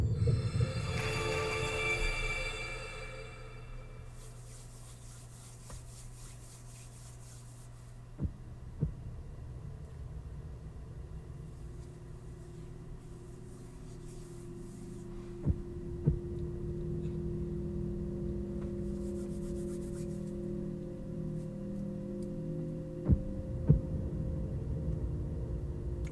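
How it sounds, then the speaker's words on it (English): A low, rhythmic heartbeat thud pulses steadily through a dark ambient hum in the video game The Legend of Zelda: Tears of the Kingdom, with a few sharp clicks standing out above the drone. "Sounds like a heartbeat."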